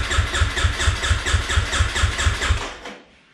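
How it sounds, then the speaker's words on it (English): A 2017 Suzuki RMX450z dirt bike cranks on its electric starter with a fast, steady, pulsing chug for about two and a half seconds, close and loud, and then it cuts off abruptly. "Hold the kill switch and hit starter for about 3-4 seconds"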